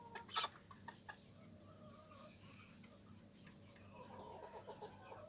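Roosters cluck softly nearby, with a few sharper squawks and scattered calls over a quiet barnyard background.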